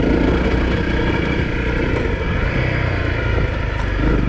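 A Honda CRF250L motorcycle cruising along a road at about 30 mph, its engine a steady, close, continuous drone mixed with wind and tyre roar for the whole stretch.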